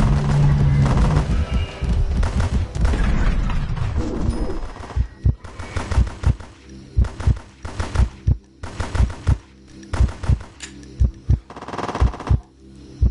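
Gunfire in a PS4 shooting game: after a dense, noisy opening, a steady run of sharp, loud shots or short bursts rings out at a fairly regular pace for the rest of the clip.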